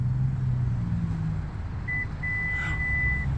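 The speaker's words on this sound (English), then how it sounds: "All you do is hold it for a few seconds, and it'll beep" A 2024 Subaru Onyx Edition XT's power liftgate height memory button gives a steady electronic beep. A short chirp is followed by a longer held tone over a constant low engine and ambient hum.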